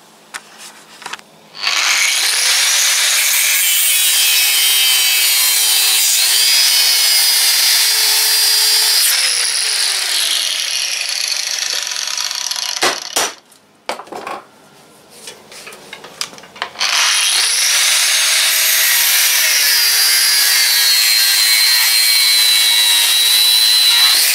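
A tractor PTO shaft being cut with a power tool: a loud, continuous high-pitched grinding whine that runs for long stretches, breaks off briefly about halfway, then resumes just as strongly.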